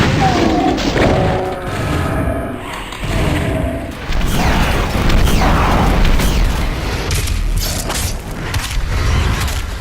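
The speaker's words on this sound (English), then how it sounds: "Throughout the Doom series, the thunderous booms of weapons have become an iconic trademark." Thunderous weapon booms and crashing mechanical impacts from the 2004 shooter Doom 3, loud and dense throughout, layered with creaks and thuds in a continuous barrage.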